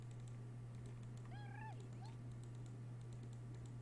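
A cat meows once in a Minecraft Pixelmon game: a rising-falling mew followed a moment later by a short chirp, over a steady low hum and light keyboard tapping.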